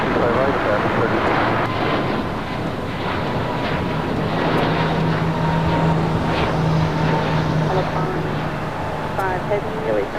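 Airliners at LAX airport create a steady, loud jet roar with a low engine drone, continuous from start to finish and mixed with radio-style talk.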